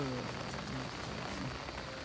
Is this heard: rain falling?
yes